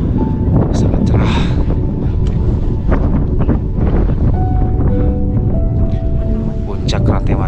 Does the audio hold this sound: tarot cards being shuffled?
no